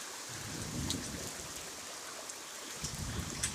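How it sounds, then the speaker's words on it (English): Heavy pouring rain in a thunderstorm, a dense steady hiss of rain on surfaces with low thunder rumbles swelling and fading beneath it. "Guys, it is now pouring rain."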